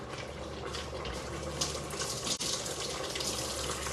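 Kitchen tap water running over a Scotch bonnet pepper while cooking oxtails, peas and rice: a steady, close splashing stream with a brief bump midway.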